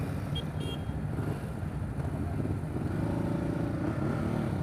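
Ducati Hypermotard 939 motorcycle ridden on a mountain road, a steady close engine drone with dense wind and road rumble throughout, rising slightly in the last second.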